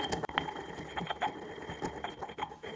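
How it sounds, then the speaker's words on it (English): Grinding white pepper with a pepper grinder for mac and cheese, a quiet gritty crunching with short rhythmic bursts as the mill turns, close but soft, with no talking. "And I'm just gonna grind that white pepper."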